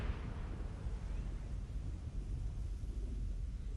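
A nuclear explosion in the video game Metal Gear Solid 3 comes through as a brief, low, steady rumbling gust of wind, a muffled roar with no sharp blast.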